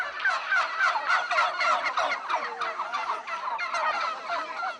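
Turkeys, the domestic fowl once called the India hen on poultry farms, gobble continuously in a loud, dense chorus of overlapping rapid calls with no speech.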